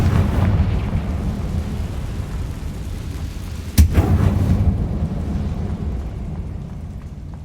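A Confringo blasting curse goes off in the Hogwarts Legacy video game: a sharp crack of an explosion mid-way through a heavy, rumbling wash of game ambience, loud and close with no voices.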